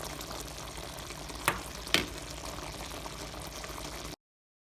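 Two cups of sugar simmering into a syrup for Jamaican coconut drops, with a steady low bubbling hiss running throughout and two sharp brief pops or stirring knocks near the middle, no talking.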